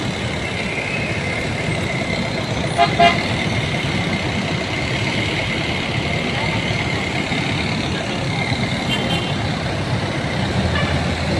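Heavy road traffic near MRT EDSA station, a constant wash of idling and passing engines with a couple of brief horn toots, loud and close, with no talking.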